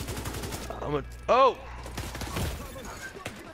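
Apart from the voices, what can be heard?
turret firing in the video game The Division 2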